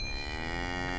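A single cow gives a long, steady moo, loud and close, sustained through the whole moment with no pause.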